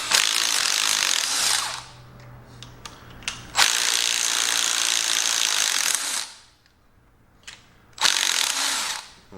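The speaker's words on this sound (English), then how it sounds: "So now we can grab our impact driver." An impact driver loosens head bolts on a 1949 Allis Chalmers B tractor in three loud, rattling bursts separated by short pauses.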